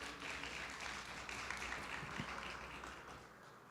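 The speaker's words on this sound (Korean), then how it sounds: "여러분 큰 박수로 환영해 주십시오." Applause from an audience at a public institutions job fair in Korea, welcoming a young intern from Korea Hydro & Nuclear Power to the stage; a steady, moderate wash of clapping with no voices, fairly faint throughout.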